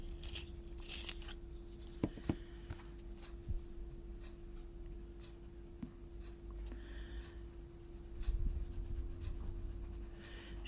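Pencil or marker strokes colouring green leaves on a strawberry drawing, a steady soft scratching and rubbing with a few sharper taps, close and quiet, no talking.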